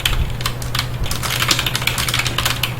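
A computer keyboard, Caps Lock included, being pressed in a quick, steady run of close, fairly loud clicks with a faint low hum underneath.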